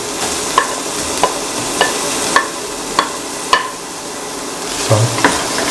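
Onion, green chilies, garlic, shallots and ginger stirred in a pan for an eggplant coconut milk stew, with a steady frying hiss broken by regular scraping clicks of a spoon about every half second, close and without talk.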